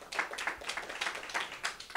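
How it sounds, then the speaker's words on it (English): A small audience at an independent bookstore literacy town hall claps for Walls of Books, quick, scattered hand claps close by, lasting the full two seconds. "Give them this, Walls of Books a round of applause."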